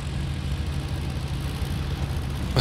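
A WWII fighter's engine turns over and runs in the IL-2 Cliffs of Dover flight sim, a steady low rumbling drone with a sharper burst right at the end.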